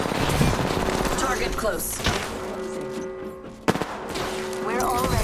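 Gunfire in the video game Apex Legends, loud dense bursts with sharp cracks across the clip, mixed with game effects and a short spoken callout.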